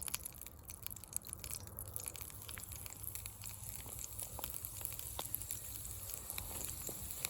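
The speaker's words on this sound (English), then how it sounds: "as you can see or hear, it's sizzling" Steady hiss of oil sizzling in a hot pan before golden oyster mushrooms go in, constant and fairly close, with faint crackles and pops scattered throughout.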